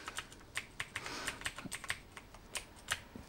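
Quick, uneven clicks of keys pressed on an aLLreLi T9 Plus mechanical gaming keypad, close and fairly quiet, with a dozen or so sharp taps spread irregularly and no talking.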